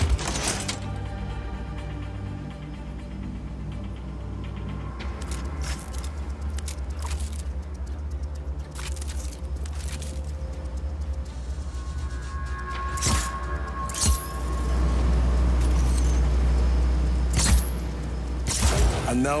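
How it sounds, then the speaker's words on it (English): Grappling hook tearing armored plating off a shielded generator in Just Cause 4, a run of metallic creaks, clanks and rattles over a low rumbling game soundscape, with a loud heavy wrench and scrape building near the end. "I think I can use my grappling hook to rip the plating off."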